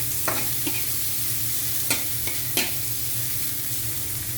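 Ginger frying in a pan for tinola, a steady close sizzle broken by a few sharp scraping clicks of stirring, with no talking.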